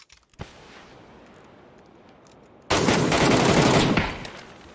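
Machine gun fire in a shooter video game: after a quiet stretch with a single sharp shot, a loud sustained automatic burst erupts and runs for about two seconds before tapering off.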